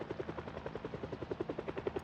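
A helicopter passing over the town in Project Zomboid during the helicopter event, rapid rhythmic rotor thumps pulsing steadily at moderate distance.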